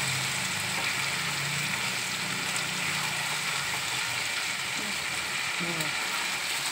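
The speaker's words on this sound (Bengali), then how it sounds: "এইটা এবার কষা হবে" Onion and tomato sautéing in a pan for a Bengali kosha, a steady, even sizzle and frying hiss that carries on throughout, with occasional stirring and faint voices underneath.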